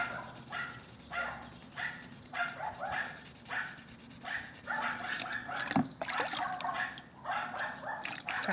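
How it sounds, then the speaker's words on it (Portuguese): Dogs bark repeatedly in a fairly steady rhythm at moderate distance, mixed with scraping and rubbing sounds from nearby handwork. "Os cachorros são só um detalhe."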